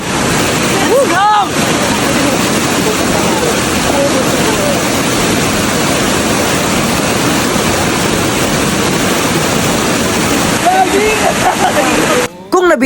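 Water roars steadily at Blue Water Falls in Baggao, Cagayan, heard from inside the cave behind the falls as a loud, constant rush that fills the space, with brief gusts of wind noise on the microphone.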